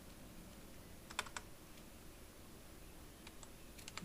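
Computer keyboard keys tapped while writing code for an iOS web browser in Xcode, a few quiet clusters of clicks at a steady pace over a faint hiss, with no talking.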